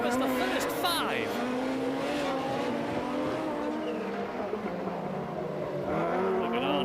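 An Audi rallycross car sliding wide through a corner on a 1991 rallycross track, its engine roaring and tires squealing with rising and falling pitch as it drifts, with a commentator talking over it.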